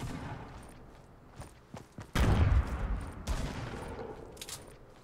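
SMG gunfire in Fortnite: a few quick scattered shots early, then a loud crackling burst of rapid fire that stays close and dense, tailing into sporadic pops.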